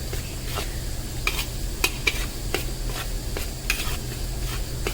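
Mohanthal cooking in ghee in a kadhai, stirred continuously with repeated scraping strokes against the pan over a constant low frying sizzle, close and steady with no voices.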